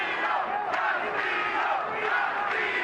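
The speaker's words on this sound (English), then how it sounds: "Crowd is chanting, Castillo, Castillo." Boxing crowd at the MGM Grand chanting a fighter's name during a championship bout: a loud, rhythmic mass chant that rises and falls and fills the hall, with no clear single voice.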